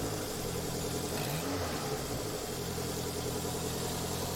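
A Toyota 3S-GTE engine, fourth generation, swapped into a Celica ST162 with a Celica transmission, runs loud and close with a steady rumbling drone and a slight rise in pitch, no voices.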